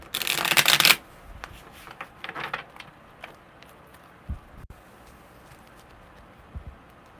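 A quick burst of cards being riffle-shuffled, loud and close for about a second, followed by quieter handling noises and faint soft taps.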